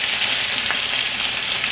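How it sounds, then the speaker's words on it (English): Salisbury steak patties frying in a pan, a steady dense sizzle and crackle filling the whole stretch at close range with no pauses or talk. "These patties are still frying."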